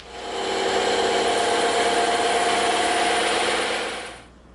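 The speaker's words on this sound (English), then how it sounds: "we're going to cut these long cuts out on the bandsaw." A bandsaw slices through EVA foam in a steady, loud, continuous whine with a harmonic buzz, running unbroken for about four seconds before cutting off abruptly near the end.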